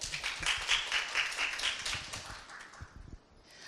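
Audience applause at a social service investment exchange event, a scattered burst of clapping from a modest crowd that thins out into a few final claps.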